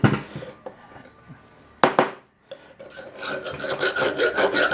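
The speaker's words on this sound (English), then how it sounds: "grab a rat tail file and see" A rat tail file rasps against metal on a Datsun truck kingpin part, short scraping strokes close up, mixed with clunks of handling and a sharp knock partway through.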